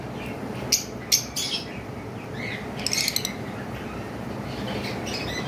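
Lutino red-eyed pet birds give a few short, bright chirps and squeaks over a steady, noisy background hum, with little bursts early on and another cluster midway.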